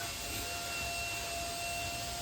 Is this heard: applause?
no